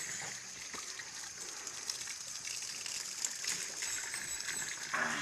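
Spring water gushes out at a grotto in Catigan, Toril, a steady bright rushing flow with splashing texture throughout, close and continuous.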